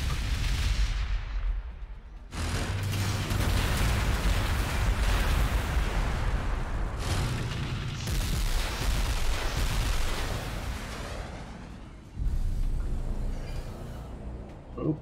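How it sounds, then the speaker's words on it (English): Heavy shooting and gunfire from the Warhammer 40,000: Gladius – Relics of War strategy game: loud, continuous rattling bursts and booming artillery-like blasts, rising and falling in waves, with no talking. "Hearing a lot of shooting and gunfire, and I'm not happy about it."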